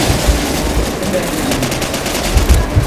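Rapid automatic gunfire from the Call of Duty 4 multiplayer video game rattles in close, dense bursts for a few seconds, loud and continuous with booming low thumps underneath.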